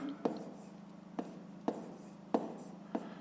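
Pen strokes tap and scratch on paper as numbers are written by hand, five short distinct marks in an uneven rhythm, close and quiet.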